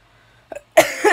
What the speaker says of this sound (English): That gum, that dang cough.